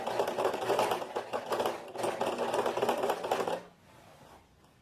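Sewing machine stitching a trouser seam for tailored-style pants, a fast steady mechanical whir and needle chatter running in two long bursts with a short pause, then stopping into quiet, close and without speech.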